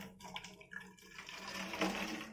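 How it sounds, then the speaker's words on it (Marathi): Hot water is poured into a bottle, a soft trickle building into a fuller splashing stream, close by and fairly quiet. "या बॉटलमध्येही आपण अर्धा ग्लास गरम पाणी घालणार आहोत"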